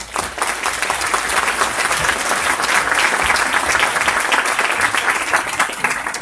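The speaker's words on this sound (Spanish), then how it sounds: "Agradecemos las palabras, señor Giolini, y ya como colofón, un aplauso." Audience at an academic lecture on amnesty gives a round of applause, loud, dense clapping that starts at once and holds steady throughout without any voices.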